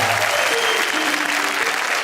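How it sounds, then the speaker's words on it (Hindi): Sustained audience applause fills the hall at a Hindi poetry recitation, a dense, steady wash of clapping throughout with faint voices underneath. "ये सारी तालियां मुझे काका जी की वजह से मिल रही हैं"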